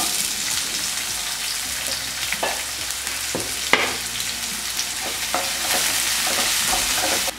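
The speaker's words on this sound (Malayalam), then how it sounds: "ഇനി എണ്ണ നന്നായിട്ട് ചൂടായിട്ട് നമുക്ക് ആ ഇഞ്ചിയും വെളുത്തുള്ളിയും ചതച്ചിട്ട് കൊടുക്കാം" Crushed ginger and garlic sizzling steadily in hot oil, a dense continuous frying hiss with occasional stirring clatter from a spoon against the pan, close and fairly loud throughout.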